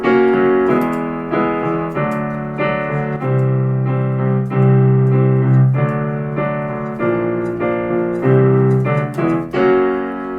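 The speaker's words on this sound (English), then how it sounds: "it has something that you very rarely see in popular music, or really any music that I've seen, which is whole tone chord progressions." Whole tone chord progression from an album, played as sustained harmonic chords that shift every second or so, loud and steady with no talking.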